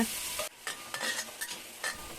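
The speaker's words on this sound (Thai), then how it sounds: "ตั้งกระทะใส่น้ำมันเล็กน้อย นำทุกอย่างลงไปผัดเลยนะคะ" Vegetables and sauce ingredients stir-fry in a hot oiled wok with a steady crackling sizzle, broken by the rhythmic scrape and toss of a spatula.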